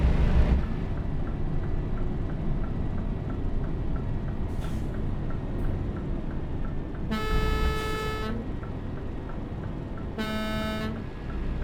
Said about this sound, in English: I don't know what the deal was with the sound of the horn there.